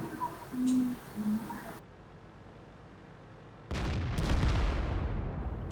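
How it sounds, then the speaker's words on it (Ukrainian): Artillery fire in a tank battle video game, arriving as a heavy, loud boom and rumbling blast that follows a brief spoken line and a stretch of quiet. "у нас є арта, арта працює сюди"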